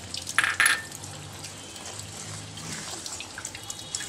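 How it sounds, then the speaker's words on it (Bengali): Water is poured into a bowl of ground mustard paste, a short splashing trickle early on followed by quieter kitchen sounds and faint clinks, close and fairly soft. "এবার সর্ষে বাটার বাটিটার মধ্যে আমি জল দিয়ে"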